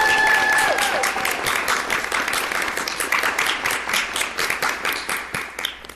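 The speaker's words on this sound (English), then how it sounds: "give it up one last time for the last Crime After Crime story told by the amazing Danelle Hallan." A live event crowd at CrimeCon 2023 in Orlando applauds loudly, dense clapping that gradually thins and fades toward the end.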